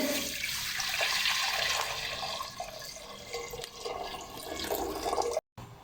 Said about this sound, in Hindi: सबसे पहले इसके अंदर 1 लीटर पानी ऐड करेंगे